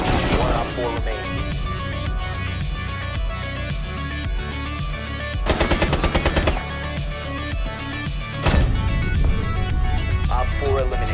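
Bursts of rapid automatic gunfire ring out in a Rainbow Six Siege match, with sharp repeated rattling volleys loud over a busy game soundtrack and overlapping voices.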